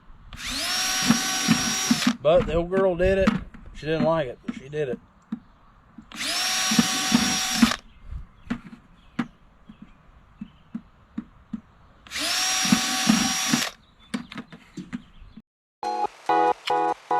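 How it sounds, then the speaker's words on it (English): A power drill fitted with a six-inch hole saw whines loudly in three long bursts with quiet gaps, grinding as it cuts; a voice talks between the bursts. "if you ever tried to drill 6-inch hole saws with a drill like this"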